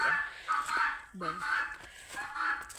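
Hens clucking quietly nearby, a few soft, irregular clucks and short calls against a faint background.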